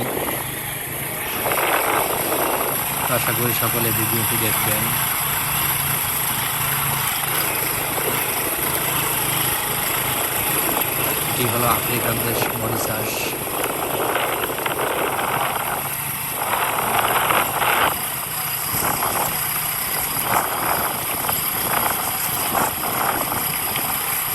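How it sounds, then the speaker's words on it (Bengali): A motorbike engine drones steadily and fairly loudly as the bike rides along a rural road through dense jungle in Mauritius, with wind rush and slight rises in engine pitch and no clear talk. "রাস্তা দিয়ে আমরা মোটর বাইক রাইড করতেছি"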